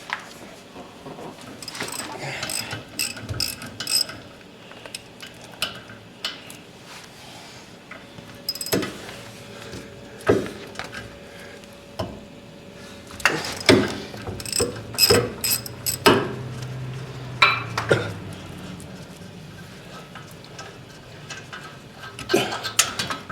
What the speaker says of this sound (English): Usually these bolts come out hard.